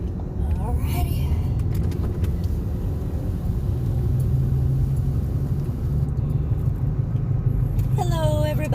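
Steady low rumble of a car interior while driving, a constant road and engine drone throughout with a voice speaking over it near the end.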